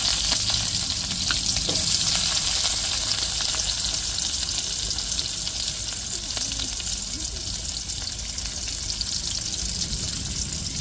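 Loud, dense crackling and sizzling from mustard seeds and small shallots frying in oil in a kadai, a continuous close hiss with popping that lasts the whole stretch.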